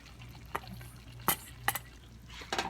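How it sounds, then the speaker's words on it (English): Stir-fried pork and vegetables for sweet and sour pork, with marinade being added: a quiet background sizzle broken by a few brief clinks and scraping stirs from the pan. "So now you're going to add the remaining marinade."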